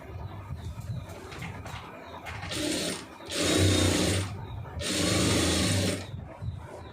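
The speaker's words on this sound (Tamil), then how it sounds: "கரெக்டாக வளைச்சி தையல் போட்டுருங்க" Sewing machine stitching a boat neck in two sustained bursts of steady whirring, each lasting about a second and a half, with quieter handling sounds and pauses between them.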